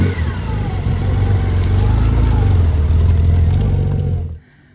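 Motorcycles rev and rumble as they leave a motorcycle festival, their engine noise building and overlapping nearby and staying loud before cutting off abruptly near the end.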